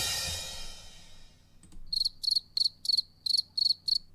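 Crickets chirp in a steady rhythmic series of about eight sharp, evenly spaced bursts, close and clear, after a brief fading hiss, with no voices.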